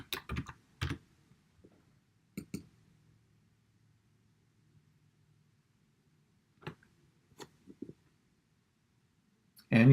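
A computer keyboard typing a password: a few short bursts of key clicks separated by pauses, close and distinct in an otherwise quiet room.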